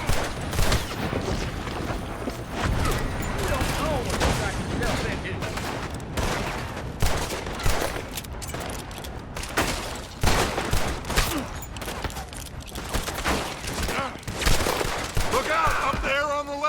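Rapid gunfire cracks from a building in Red Dead Redemption 2 during a horse-theft mission, dense overlapping shots and volleys, loud and close, continuing throughout with a voice speaking over the fighting.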